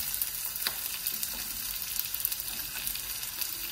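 Leek and garlic sizzling in a hot pan, a steady close frying hiss with a few faint crackles and a light stir, and nobody speaking.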